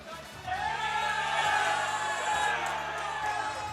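Crowd at a collegiate esports match cheering and whooping, a swelling roar of voices that stays loud and sustained, with people talking underneath.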